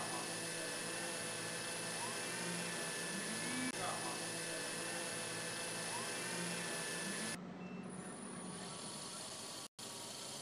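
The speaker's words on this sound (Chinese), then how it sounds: "他要靠自己的这个螺旋桨来控制姿态" Propellers on a high-rise window cleaning robot run with a steady loud whirring drone, a voice talking over it, then the sound drops and cuts out briefly near the end.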